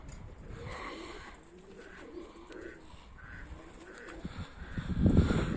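Pigeons coo softly in a low, repeated murmur, with some rustling and handling noise that grows louder near the end.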